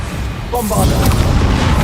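Bombarda blasting spell in Hogwarts Legacy going off as a loud, close boom with a crackling burst and rumbling tail, a shouted spell word layered over the start.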